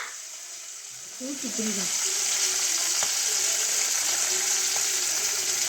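Green chilies and curry leaves hit hot oil with a sharp burst of spluttering, then settle into a steady loud sizzle that fills the rest, with a brief voice early on.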